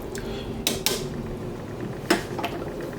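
A spoon stirs food boiling in a cooking pot, making a few sharp metallic scrapes and clinks scattered over a quiet background.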